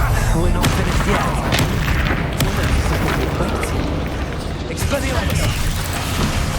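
Confringo and Bombarda explosion spells booming repeatedly in a Hogwarts Legacy dragon-nest battle, a dense, loud, continuous barrage of blasts with a voice shouting over them.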